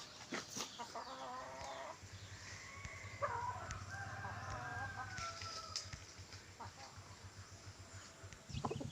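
Chickens cluck and squawk close by at feeding time, with a rooster crowing among them and a steady low hum underneath.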